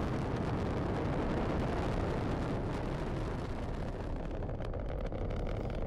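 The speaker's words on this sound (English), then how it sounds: "All right, so we get the rocket launch," Rocket launch in Fortnite, a continuous loud roaring rumble with dense broadband thrust noise sustained throughout, close and overpowering.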